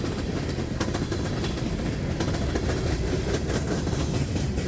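A train rolls along the railway at CP 587, passing beneath a former D&H signal tower, with a steady loud rumble and rhythmic wheel clatter filling the whole stretch.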